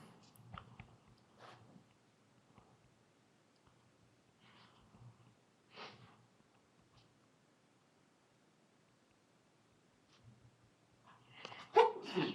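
A single sneeze bursts out near the end of a quiet classroom lecture about circular motion, loud and close after a stretch of faint room noise and scattered small sounds.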